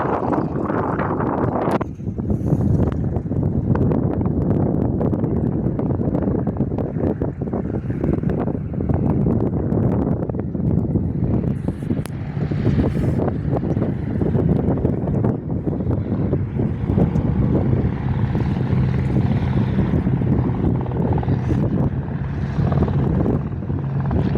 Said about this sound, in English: One of the old Air Force trainers coming back into land.